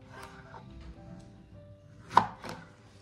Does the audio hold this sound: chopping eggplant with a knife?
yes